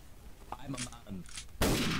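Artillery fire in a Garry's Mod WWII German-occupation roleplay game: after some soft background chatter, one sudden loud broadband boom lands near the end and holds as a sustained, rumbling blast.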